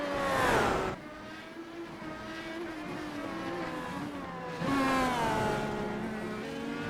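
IndyCar race cars in the iRacing sim at the Detroit Grand Prix street circuit, engines droning at high revs as two cars sweep past across the finish line, the second pass rising loud near the end, with no talk.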